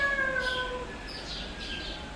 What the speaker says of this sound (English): Soon, the cat began to meow its food.